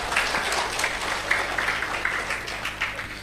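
Applause from an audience at an Islamic makrifat lecture, a dense steady clapping that keeps going without a break at moderate loudness.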